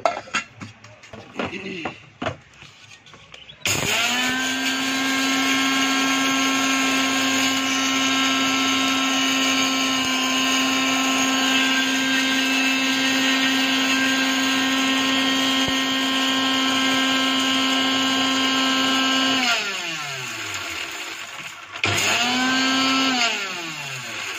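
Electric kitchen mixer grinding parboiled rice into fine flour: after some brief handling clatter, a loud steady high-pitched motor whine runs for about fifteen seconds, then winds down and briefly starts up again.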